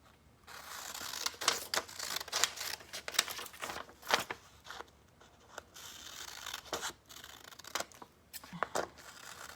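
Scissors snipping through a paper template along printed lines, with a series of short crisp cuts in irregular bursts close to the mic over quiet room noise.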